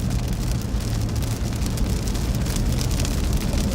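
Steady dense rain drums on a car body during a storm chase through severe Midwest weather, a continuous close wash of drops with low rumbling road and vehicle noise underneath and no speech.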